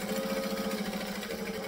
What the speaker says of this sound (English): So we're gonna stitch and back stitch.